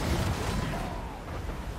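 An artillery shot fires in the video game Total War: Warhammer 2, playing as the Skaven. A deep, booming rumble fills the moment and holds at moderate loudness before slowly fading.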